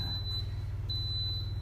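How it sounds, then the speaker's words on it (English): A kitchen cooker finishing a batch of mashed potato gives a thin, high electronic beep in two short bursts, over a steady low mains hum. "Once it's done, it's gonna have a beeping sound and you're gonna know."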